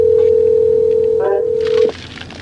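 Telephone call tones on a phone line, a steady pure tone holding for nearly two seconds with a brief dialing chirp partway, then cutting off into quiet line noise.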